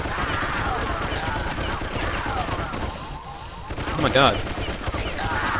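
Enemy gunfire from Slig guards in Oddworld: Munch's Oddysee, heard as steady rattling automatic shots under a player's excited talk, briefly dipping before a loud burst and cry.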